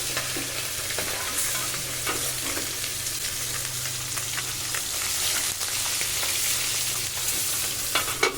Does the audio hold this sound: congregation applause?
no